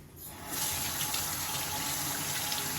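Tap water runs steadily into a sink to wet the face before a wash with Cetaphil face wash, starting after a brief quiet moment and then gushing in a constant close, even stream with no talking.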